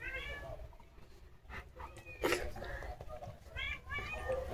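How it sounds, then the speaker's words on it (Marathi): A cat meows a few times at moderate distance, the short calls spaced out amid background noise, with people talking around it. "मांजर ओरडती ना."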